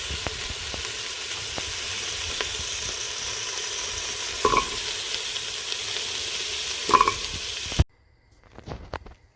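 Pumpkin pieces frying in a pot, a steady close sizzle broken by a couple of brief stirring clatters, then cutting off abruptly near the end.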